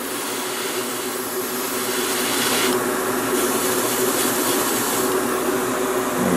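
Airbrush spraying onto MG 1/100 Gundam Heavyarms model parts, a steady broadband hiss of compressed air that grows slightly louder partway through and continues without a break and without speech.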